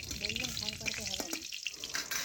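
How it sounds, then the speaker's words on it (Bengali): Two dried red chillies and whole cumin seeds crackle and sizzle in hot oil, a steady close frying hiss with light stirring scrapes throughout. "তেল ভালোভাবে গরম হয়ে গেছে, ফোড়নে দিলাম দুটো শুকনো লঙ্কা ও গোটা জিরে।"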